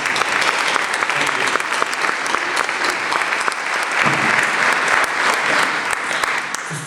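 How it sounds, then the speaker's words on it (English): Audience applauding debate candidates at a public forum, a dense, steady wash of clapping that stays loud and even throughout, with no pauses. "I'd like to open up the program giving both of our candidates a round of applause,"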